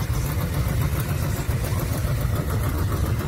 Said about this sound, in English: This is just someone driving in here, not in the show.